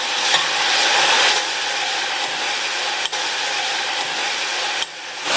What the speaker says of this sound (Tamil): இந்த வெங்காயத்தை 1 நிமிஷம் போல் வதக்கி விட்டுக்கோங்க.